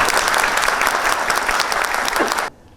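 Loud, full applause from a large crowd of teachers and students at a Turkish municipal event, sustained and close before cutting off abruptly near the end.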